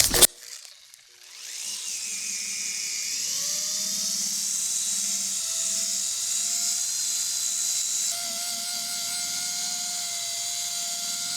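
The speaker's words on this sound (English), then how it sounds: "I need my rotary to basically sand them out of the clear coat" A rotary polisher cutting deep scratches out of a car's clear coat spins up after a brief clatter into a steady, high-pitched whine with a droning hum that dips slightly as pressure changes, close and continuous, without any talking.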